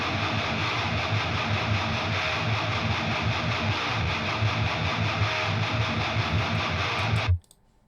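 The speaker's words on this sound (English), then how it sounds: "If I just solo those guitars out for you, they sound like this." Soloed heavy distorted electric guitars, several tones stacked together, play a loud, sustained, thick riff with steady chugging low end and saturated highs, stopping suddenly just before the close.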